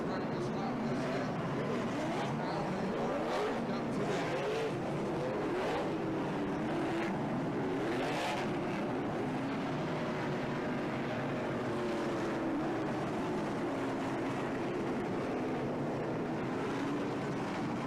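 NASCAR Pinty's Series race cars roll through a practice lap at Autodrome Saint-Eustache, a continuous roar of engines with rising and falling pitch under steady crowd and track ambience, a commentator talking over it.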